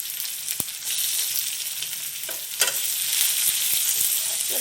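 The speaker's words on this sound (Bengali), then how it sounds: "পেঁয়াজটা এবার ভাজা হচ্ছে।" Onions frying in hot oil in a pan with whole spices for a Bengali prawn, ridge gourd and potato curry, giving a loud continuous sizzle broken by sharp clicks and scrapes of stirring.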